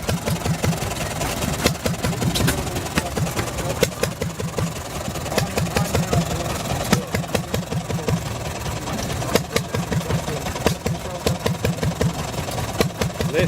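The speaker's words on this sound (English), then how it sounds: "Boy, that is a good sounding engine." A Collis stationary engine with its radiator built into the flywheel idles steadily nearby, giving a rhythmic mid-pitched chugging beat with sharp exhaust pops.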